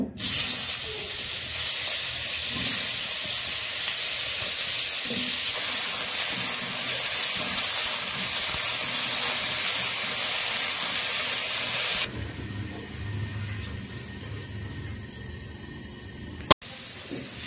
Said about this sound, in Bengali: এখন ফুলকপি গুলো একটু ভেজে নিব